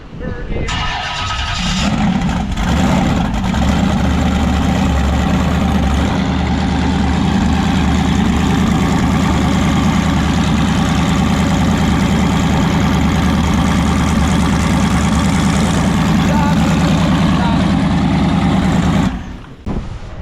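Mini jet boat engine starts and idles steadily for about twenty seconds to warm up, a loud, continuous low rumble with voices heard faintly over it before it cuts off.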